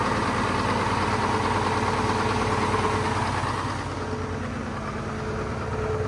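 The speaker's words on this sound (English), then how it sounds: "it's an old Mack 2-stroke" An old Mack two-stroke truck engine runs steadily nearby with a constant, dense mechanical drone and a rough, knocking texture, alone and unchanging throughout.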